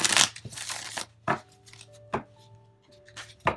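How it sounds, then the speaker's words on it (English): Tarot cards are shuffled by hand in a few quick riffling bursts, loud at first and then in shorter crisp flurries separated by brief pauses, with faint tonal background hum. "I'm going to give this a quick shuffle here really quick."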